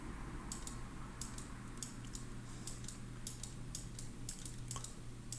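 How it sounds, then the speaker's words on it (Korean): Spacebar presses and mouse clicks while dragging in Photoshop: a steady run of light, quick keyboard and mouse clicks at close range over a low background hum, with no talking. "화면 이동하려면 스페이스바를 누르고 클릭 드래그."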